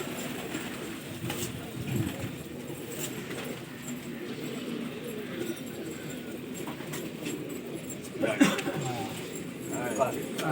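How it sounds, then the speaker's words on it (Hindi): Pigeons coming out among a pigeon-keeping crowd in Lucknow. Soft cooing and wing flutters run under near-constant chatter, with a louder burst of activity toward the end. "ये कबूतर निकल के आ रहे हैं"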